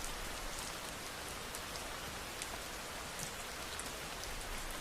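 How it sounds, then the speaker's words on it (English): Gentle rain falls steadily, a soft, even patter of drops on surfaces with occasional brighter drips, continuous and fairly quiet throughout with no voices. "Listen to the sound of the rain gently falling in the background."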